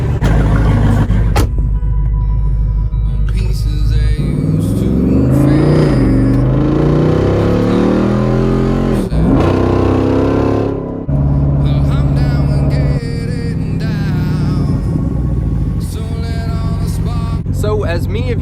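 A Jeep Rubicon 392 V8 rumbles loud and close, its deep engine note rising and falling through several revs and shifts, with a brief drop in the middle before the roar returns.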